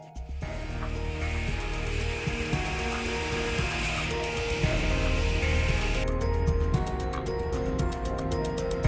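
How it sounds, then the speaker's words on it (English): A power grinder taking slag off the edge of a forged titanium sword blade, a loud continuous whirring grind that shifts to a rapid rattling chatter partway through, close and uninterrupted. "I'm gonna start by grinding off the slag, doing a little perimeter grinding"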